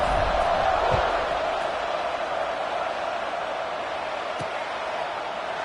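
A stadium crowd in the football video game CFB26 roars as a broad, steady wash of noise, loud at first and easing slightly, with faint shouts and a couple of dull thuds in the mix.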